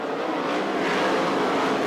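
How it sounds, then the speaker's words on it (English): USAC/CRA sprint cars at Hanford, California roar together as the field accelerates to the green flag, a dense, loud, rising engine snarl with no voices over it. "Coming off of turn 4, they tickle the throttle, it's green"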